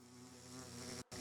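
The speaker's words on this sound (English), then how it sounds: "Oh, there's bees." Bees in Minecraft give a close, steady droning buzz that briefly cuts out near the end before resuming.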